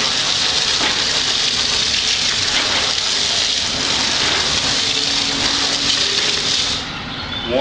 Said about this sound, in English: Come back, rinse it off.